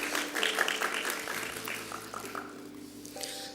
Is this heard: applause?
yes